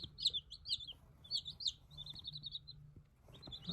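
Small Marans chicks chirp in quick, high-pitched bursts, several peeps in a row with brief gaps, fairly close and soft against a low background hum.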